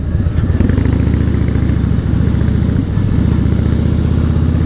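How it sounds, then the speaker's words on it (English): Harley-Davidson Fatboy motorcycle engine, a loud close continuous rumbling drone with a steady throb throughout, no voices. "I'm barely even, you know, twisting it, and the bike is literally flying off the freaking street"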